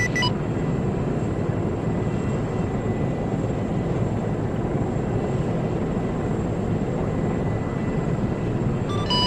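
Military helicopter engine spinning up in the game Arma, a loud continuous turbine and rotor roar holding steady throughout, with no talk.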